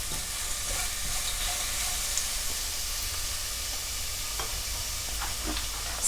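Onions fry in a pan with a steady, dense sizzle and hiss throughout, close and continuous with faint stirring ticks.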